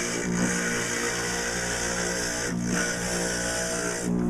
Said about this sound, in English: Now on this little tiny grinder, I have to push my sponge up against it to keep it wet.